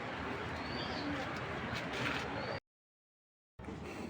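Racing pigeons coo softly in a loft, a steady murmuring backdrop that cuts out for about a second before resuming.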